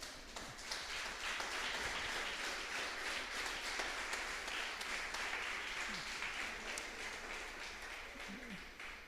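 Churchgoers applaud during a Wednesday service, a steady and fairly faint spread of clapping heard at a distance, with a few isolated voices and cheers poking through.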